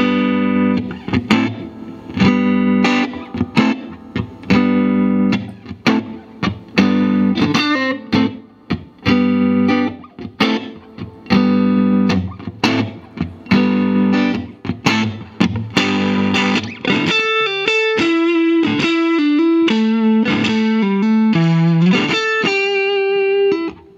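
A 1963 Fender Stratocaster on its neck pickup through a tube amp, with a warm, slightly driven tone, plays chords and then single-note runs, loud and continuous with a touch of reverb.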